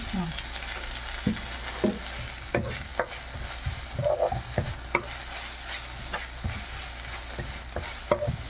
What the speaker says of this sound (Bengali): দেখেন হলুদের গুঁড়ো ভালো করে আমি মিক্স করে নিচ্ছি